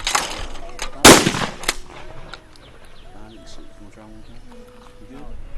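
Shotgun fired at clay targets outdoors: one loud, sharp blast near the start with a fading echo, followed by quieter background and a voice speaking briefly afterward.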